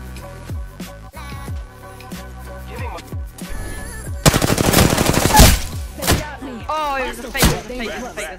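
Gunfire from the video game Apex Legends: single shots and thumps at first, then a dense, loud automatic burst, followed by further scattered shots and game effects.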